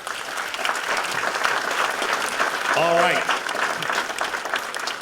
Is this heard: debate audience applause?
yes